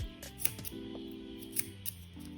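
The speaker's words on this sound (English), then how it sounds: "Cut off the yarn for weave in." Scissors snip once or twice to cut off a strand of crochet yarn, soft and close, over a faint steady background hum.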